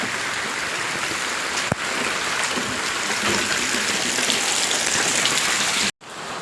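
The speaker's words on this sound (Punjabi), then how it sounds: "ਦੇਖ ਲਓ ਬਈ ਇੰਨਾ ਜ਼ਿਆਦਾ ਮੀਂਹ ਪੈ ਰਿਹਾ ਅੱਜ" Heavy rain pours steadily, a dense, loud wash of drops hitting surfaces close by, broken by one brief knock and a sudden cut near the end.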